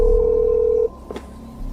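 A telephone call tone, with no one answering, holds as a single steady electronic tone for almost a second, then cuts off, leaving a low hum and a faint click.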